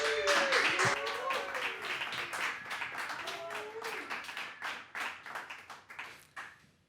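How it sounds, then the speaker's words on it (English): An audience at an academic talk claps in welcome, a moderate patter of many hands that tapers off over several seconds, with a few faint voices in the mix. "So please welcome David with a warm applause."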